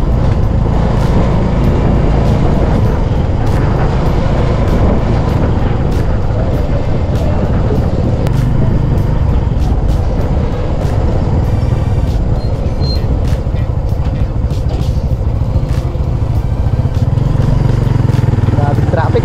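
A congested street where motorbikes, cars and buses form a loud, unbroken engine roar close by. The drone continues for a long stretch, with voices faintly under it.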